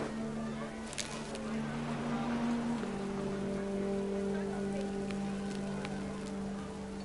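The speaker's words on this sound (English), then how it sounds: "The rain came down in buckets then" Steady heavy rain pattering on a tent, constant and close, with a low tonal hum running underneath.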